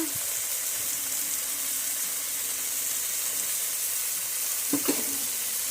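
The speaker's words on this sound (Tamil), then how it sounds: "இப்போ நம்ம நல்லா கிண்டிக்கலாம்" Food fries in a pan with curry leaves, giving a constant close hiss of sizzling oil and a couple of brief stirring scrapes near the end, with no talking.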